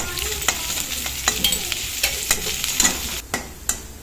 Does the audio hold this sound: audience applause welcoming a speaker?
no